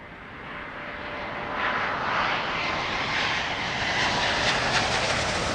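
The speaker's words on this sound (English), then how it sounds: "Nice noisy 777-200." A Boeing 777-200 airliner at Heathrow Airport, its flaps dirty, roars past as a steady, loud broadband engine rumble that swells after the first couple of seconds and holds strong, with no talk.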